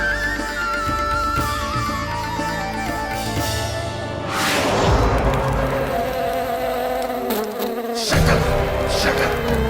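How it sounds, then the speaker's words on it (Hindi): A housefly buzzes steadily and close by for nearly ten seconds, its whine wavering in pitch as it circles, with a louder swell midway and near the end; nobody speaks. "लगता है मक्खी थक गई है"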